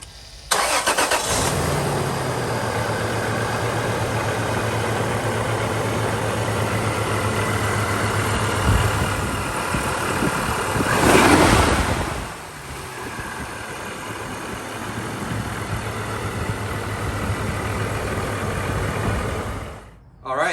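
A supercharged 3.4L V6 in a Toyota 4Runner cranks and catches after knock sensor replacement, then settles into a steady idle, briefly revving louder partway through before dropping back and shutting off.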